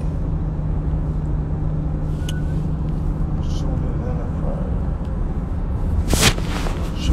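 A car drives along with a continuous low engine rumble and road noise inside the cabin while people talk over it, with a brief rustling burst near the end.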